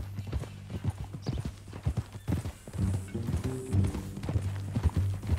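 Horse hooves clop in a steady, fast rhythm while riding in Red Dead Redemption 2, close and clear over a low droning background, with a faint whinny.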